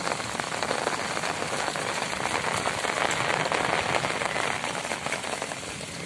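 Heavy monsoon rain pours down in Swabi, a dense, steady hiss of drops hitting surfaces that stays loud and unbroken throughout, with no voices.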